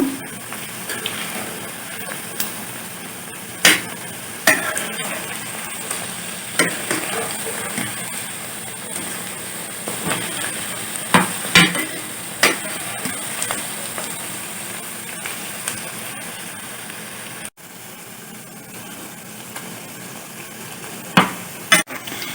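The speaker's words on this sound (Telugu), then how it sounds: "ఒకసారి కలుపుకుందాం." Wheat flour pakoda batter being stirred and mixed by hand in a bowl, giving soft wet squelching and scraping sounds with periodic sharper clicks, close and moderately quiet, with no talking.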